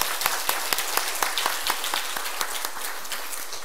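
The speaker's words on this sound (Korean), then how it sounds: "우리 더 크게 하나님 앞에 영광의 박수를 돌리겠습니다" A church congregation applauds during a worship service, with fairly loud claps falling in a regular, rhythmic beat over a softer wash of scattered clapping.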